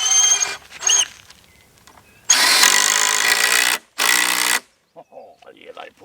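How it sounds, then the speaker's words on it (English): A power driver sends screws into a timber railway sleeper in short bursts, a few loud whirring runs separated by pauses, with some quieter handling noises between. "Let's see how these screws go into the sleeper area."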